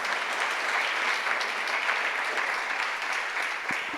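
A church congregation applauds steadily and loudly throughout, a dense wash of clapping from many hands filling the room without pause.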